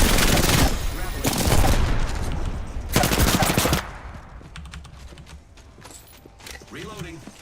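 Rapid automatic gunfire from the Apex Legends video game bursts out in loud rattling volleys, with a few shorter bursts and scattered shots following more faintly, while game voice lines play over it.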